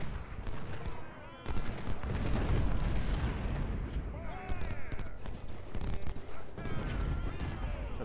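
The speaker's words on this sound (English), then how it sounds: "Siege guns are fucking great." Heavy siege guns boom again and again through a Civil War battle in Ultimate General: Civil War, deep blasts layered over continuous musket fusillades, loud and dense throughout with a brief lull near the start.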